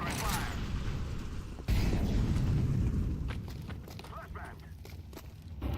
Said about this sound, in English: I'm throwing fire.